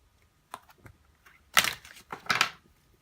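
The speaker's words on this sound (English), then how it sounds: "So I'll just do a quick shuffle here." Deck of karma oracle cards being quickly shuffled by hand, a few soft riffling bursts with two louder flurries of card slaps, close and otherwise quiet.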